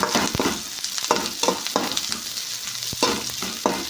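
Spice mixture with garlic and onion being stirred and fried in a pan, with a constant sizzle broken by repeated scraping strokes of a spoon, close and fairly loud, no talking.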